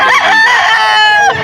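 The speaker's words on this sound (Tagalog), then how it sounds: "Mga manok na yan." A rooster crows loudly and close by at a pet market in Bocaue, one long drawn-out call that holds steady for over a second before breaking off.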